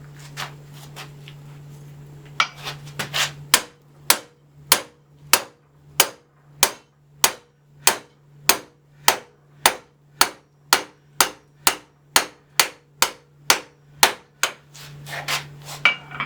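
A hammer strikes an iron bar held in a vise to bend it in a forge shop, a long run of sharp metallic blows at a steady, slightly quickening rhythm, loud and close, over a faint low hum.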